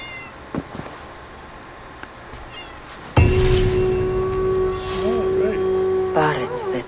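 A pet cat meows near the microphone, several drawn-out, wavering cries rising over a quiet game soundtrack, with a brief voice earlier and some background hum.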